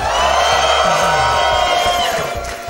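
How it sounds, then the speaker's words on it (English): A large live crowd at a speedrunning charity marathon event cheers and whoops loudly and continuously for a few seconds, a dense roar of many voices that fades slightly at the end. "Can I get some hype from the crowd a little bit?"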